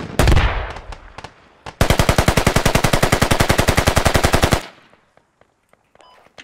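A light machine gun fires in the tactical shooter game Squad: an initial loud shot, then a long rapid automatic burst of evenly spaced loud reports lasting nearly three seconds before cutting off into near silence with faint clicks.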